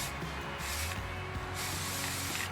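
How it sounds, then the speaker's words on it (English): Purple spray paint hisses from an aerosol can in bursts onto trap parts out on a trap line, with several short sprays and a steady low outdoor rumble. "Simple solution, just take some spray paint."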